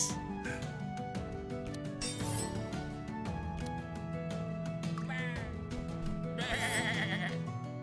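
Sheep bleats from the video game Across the Obelisk, heard over layered game music with chiming and sparkling effects, the bleats quiet and brief within the busy mix.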